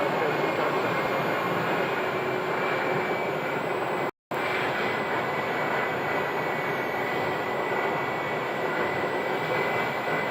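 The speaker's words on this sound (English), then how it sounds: "This is an older A321, 8 years old." An older Airbus A321, eight years old, taxis at Phoenix airport with a steady broad engine roar and a thin whine held throughout, cut by a brief dropout partway through.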